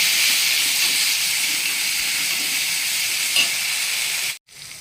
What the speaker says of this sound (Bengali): এবার দই দিয়ে এটাকে ভালো করে আবার আমি চাপিয়ে নেব।